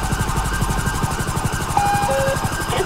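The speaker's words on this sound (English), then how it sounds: "I'm just gonna try to line up the helicopter a little bit better here" A heavy Super Puma sheriff rescue helicopter taxiing on its wheels in GTA 5, with a steady low rotor thump and engine drone held close and loud throughout, a few brief tonal beeps overlaid.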